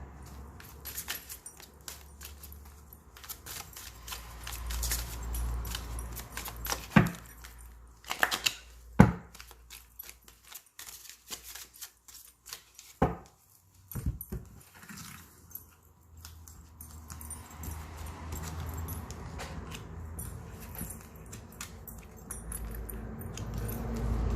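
Tarot cards shuffled and handled for a reading, giving soft papery riffles and sharper slaps and taps in bursts, close and fairly quiet, with no talking.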